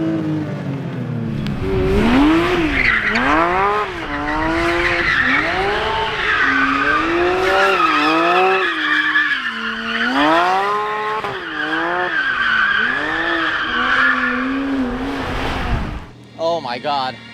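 A Porsche drifting with loud tire squeal and skidding, its engine note rising and falling in repeated sweeps for about fourteen seconds, close and continuous, with voices faintly audible under it before it cuts off.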